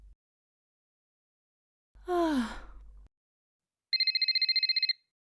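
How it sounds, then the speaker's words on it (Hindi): After a sighing breath, a telephone rings with a rapid electronic trill, one clear burst of ringing in an otherwise quiet room. "मम्मी का फोन बज रहा है, किचन में होंगी, उन्हें सुनाई नहीं दे रहा होगा।"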